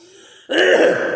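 A man clears his throat and coughs once, loud and close, a brief harsh rasp that follows a faint voiced breath.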